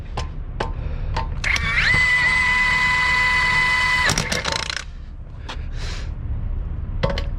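An Ingersoll Rand W9691 cordless 1-inch impact gun runs with a steady high, harmonic whine for about two seconds, then cuts off by itself, with workshop clatter and knocks around it.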